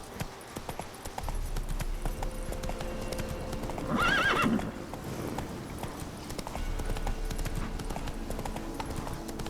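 Roach, Geralt's horse in The Witcher 3, gallops with rapid, steady hoofbeats, and a loud whinny rises over them midway. The hooves keep pounding evenly before and after the neigh.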